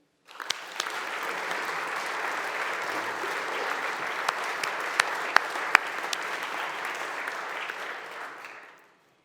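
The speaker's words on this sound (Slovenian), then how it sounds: "Aplavz, prosim." Audience applause fills the hall at a ceremonial session of the University of Ljubljana senate marking its centenary, steady and sustained for about eight seconds, with a few sharper claps standing out before it fades.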